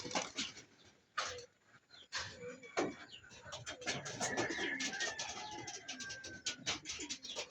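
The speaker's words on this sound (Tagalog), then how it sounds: "bumaba na yung mga ibon" Racing pigeons dropping in to land after a short 27 km training toss, with fluttering wingbeats, soft cooing and bird calls building into a busy, continuous flurry around a loft.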